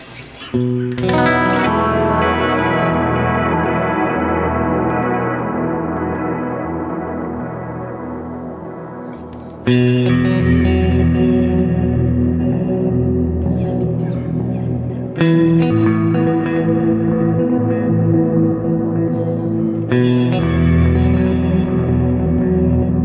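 Electric guitar run through a harmony fifth clouds effect in Universal Audio Paradise Guitar Studio: loud sustained chords with shimmering harmonized, reverb-washed tails, restruck about four times and ringing out alone.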